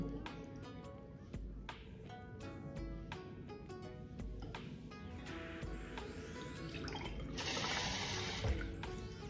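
Tap water pours into a sink to change the rinse water for brushes, a close, continuous splashing flow that grows fuller and louder toward the end.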